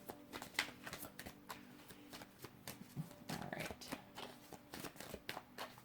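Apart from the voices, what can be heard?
shuffling tarot cards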